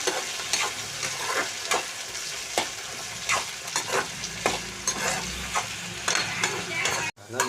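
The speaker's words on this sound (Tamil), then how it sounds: "இந்த தக்காளி நல்லா வதக்கணும்." Tomatoes and onions stirred and sautéed in a pan, with a steady sizzle and regular scraping strokes of the spoon throughout, close and fairly loud with no talking.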